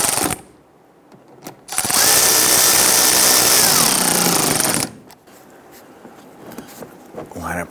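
A power tool snugs a front fender liner bolt on a 2011-2019 Ford Explorer, running in one loud continuous burst of about three seconds between quieter shop noise, with no speech heard.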